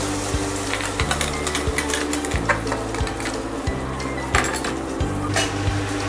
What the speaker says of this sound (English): Next add the ginger garlic paste.